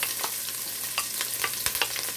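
Green and yellow onions sizzle and fry in butter with olive oil, a steady close hiss broken by scattered stirring scrapes and pops, with no voices.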